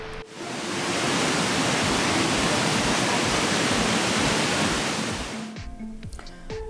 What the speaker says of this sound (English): After a heavy rainfall the day before, the creek is just a torrent of water.